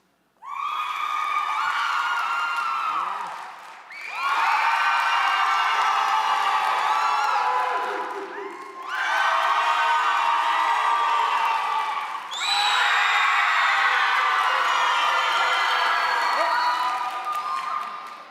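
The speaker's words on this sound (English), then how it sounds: "So only clap if you want the person to win the grand prize." A game-show audience claps, cheers and whoops for a contestant in three long, loud waves, each dying down before the next begins.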